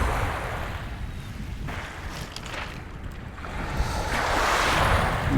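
Waves wash onto a beach at the top of the tide with a steady rushing surf, and wind buffets the microphone throughout, swelling louder toward the end.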